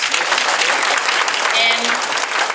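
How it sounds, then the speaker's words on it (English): Steady, dense audience applause at a Japanese business New Year gathering, many hands clapping together at close range for the full length with no break. "So please give a round of applause to our board members."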